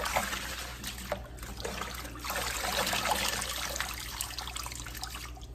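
Water from a kitchen tap runs and splashes continuously as pre-washed greens are rinsed, a soft, steady trickling hiss with faint sloshing, alone and fairly quiet.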